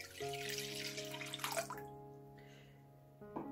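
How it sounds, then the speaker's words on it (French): About 200 ml of lukewarm milk pours into a mixing bowl with a soft liquid trickle that fades after a couple of seconds, set against a steady electrical hum in a kitchen. "Je vais mettre le lait tiède, 200 ml de lait tiède."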